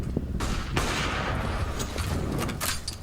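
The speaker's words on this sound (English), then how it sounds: "Uzi has the AWP in hand" AWP sniper rifle shots during a professional Counter-Strike match between NIP and Astralis: sharp gunfire cracks punch through a dense, busy mix of in-game combat noise, with several shots close together.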